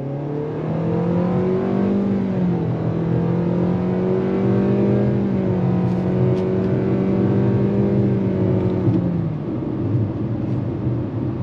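A 2025 Nissan Kicks SUV accelerates hard on throttle, its engine note climbing and shifting in a loud, steady drone heard from inside the cabin, with no talking.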